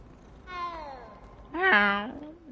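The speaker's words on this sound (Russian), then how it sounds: "Мой еще котик, давайте погладим." A cat in the Hogwarts Legacy video game meows twice while being petted, the second call louder and longer, both fairly close over a quiet background.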